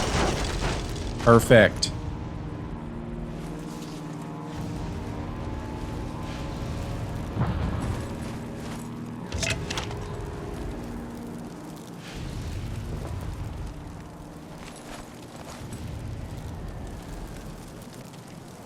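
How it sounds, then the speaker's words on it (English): Explosive case shot and blowing up in the Sniper Elite 3 video game, a sharp burst near the start followed by a duller boom a few seconds later, with a voice talking over the game sounds. "we're going to shoot this little explosive case right here"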